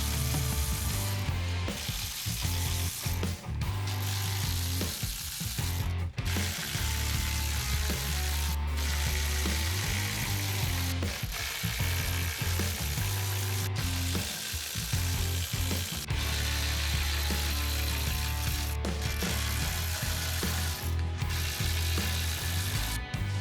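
A ratchet spins bolts out of an Evo primary case, a dense, continuous buzz of rapid pawl clicks, close and loud, broken only by brief pauses between bolts.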